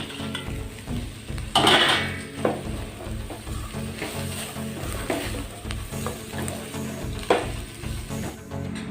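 Previously fried chicken pieces tossed into a hot pan for Chinese chilli chicken, with a steady loud sizzle and the scrape and clink of a spoon stirring against the pan, close up and with no voices.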